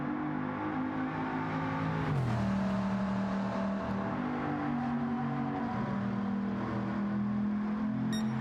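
A race car engine droning through a final lap at a high-speed ring, a steady loud whine with a pitch drop as it shifts, then a sustained hum that sounds almost truck-like.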